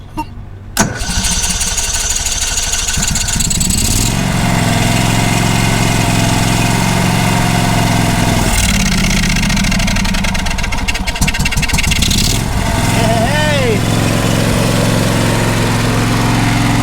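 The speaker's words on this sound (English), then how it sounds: "It's working. It's probably needs some adjustment for the carburetor." A John Deere SST16 zero-turn lawn mower, an old barn find, cranks and catches, then its engine runs loud and close with a rough, uneven idle that surges and dips.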